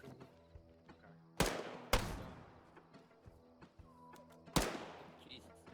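Gunshots in an open-world zombie game, three sharp loud reports with echoing tails spaced a few seconds apart, plus quieter thuds, under intermittent voice chat.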